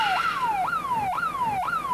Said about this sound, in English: a siren warns workers.